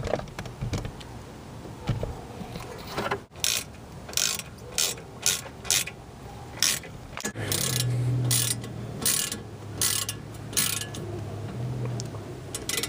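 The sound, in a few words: reinstalling brake caliper slide pins on BMW E36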